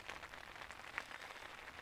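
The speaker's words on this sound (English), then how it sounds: "Rain's coming down now. Love the sound of it." Rain falls at a campsite at night during a solo survival trip, a quiet, steady patter with faint scattered drops, soft and even throughout.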